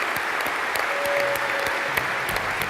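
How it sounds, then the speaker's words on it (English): Audience applause for the Model Mania 2012 winners, brisk steady clapping from a crowd with a few sharper individual claps standing out. "Let's give a big round of applause for all these guys up here"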